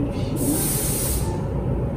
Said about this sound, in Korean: 제가 쓰는 건 하드 스프레이인데 이게 올리브영에 파는 거예요. 뿌려주도록 할게요.